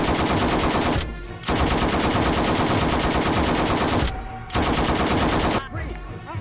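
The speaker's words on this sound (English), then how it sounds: "There's a gun here and it's gonna hurt" Gunfire in Vampire The Masquerade Bloodlines, played with the War Games mod in a Paris level: loud, close automatic bursts that run for a couple of seconds each, separated by brief pauses.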